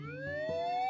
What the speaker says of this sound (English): Didn't I tell you the ambulance would be here soon, Elfie?